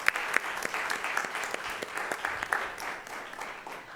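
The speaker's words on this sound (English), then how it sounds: "let's give them a round of applause for their service" Applause at a school board meeting, a steady patter of many hands clapping at moderate distance, fairly soft, with no talking over it.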